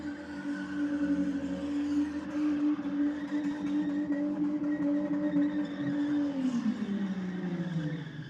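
Commodore car at Sydney Dragway at a night drag racing event, its engine holding a loud, steady rev with gritty texture before the pitch drops near the end.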